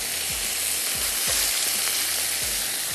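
Carrots, mushrooms and pickles fry in a very hot pan, giving a steady loud sizzle with a few soft scraping strokes of a spatula, close and without talk.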